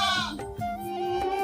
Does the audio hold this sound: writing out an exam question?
no